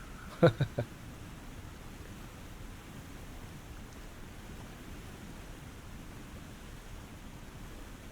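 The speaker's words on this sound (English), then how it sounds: "Hey, waterfall!" A waterfall in the snowy wilderness survival game The Long Dark, a steady broadband rushing roar that holds unchanged throughout, with a few brief knocks near the start.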